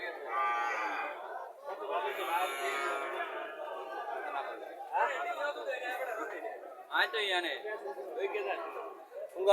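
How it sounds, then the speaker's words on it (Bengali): A Sahiwal cow mooing at a cattle sale in Chauddagram, Comilla, with several drawn-out calls close by under constant chatter from people nearby. "এনে একটা সাইওয়াল গাভি দেখা যেতেছে"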